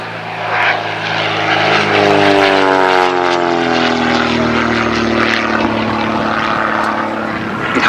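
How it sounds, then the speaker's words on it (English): Messerschmitt Typhoon, a 1934 four-seat high-speed propeller plane with an Argus AS-10 engine, flies at an airshow with a loud, steady propeller drone that shifts in pitch as it passes close by. "This was designed in 1934 by Billy Messerschmitt and called the Typhoon"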